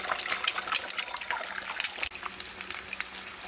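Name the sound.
eggs frying in a pan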